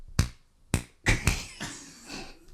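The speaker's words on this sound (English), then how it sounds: "It's like a wet clap." Wet hand claps, several sharp, close smacking slaps spaced out, followed by softer, squelchier claps that trail off.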